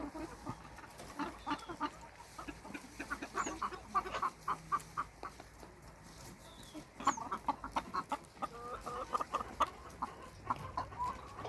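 Chickens cluck and squawk in repeated short bursts throughout, several birds close by, with a steady low rumble of background noise.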